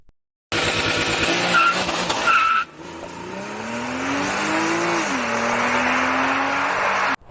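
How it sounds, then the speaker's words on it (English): A Porsche Cayman S (981) engine revs hard with tire squeal, then drops to a steady rising drone as it accelerates away, loud and close. "It's a Porsche Cayman S981."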